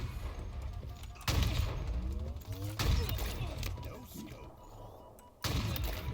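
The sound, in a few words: sniper rifle gunfire in a video game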